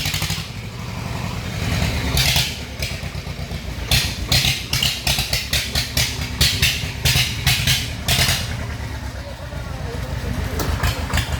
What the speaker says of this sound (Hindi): काफी दिनों बाद ट्रैक्टर को उठाया है।